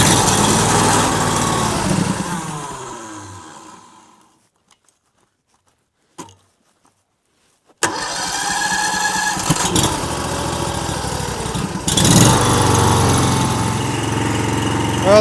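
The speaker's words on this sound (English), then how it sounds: "let's see if we can fire this guy back up again and see if this splitter ram works" A log splitter's small engine on a wood yard, heard running steadily, then dying into near silence with a couple of faint clicks before restarting and running loud and close again, with a brief surge near the end.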